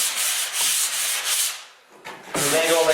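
Sanding sponge buffing dried drywall joint compound at an angle, a close, steady scratchy rubbing in long strokes, pausing briefly in the middle before resuming.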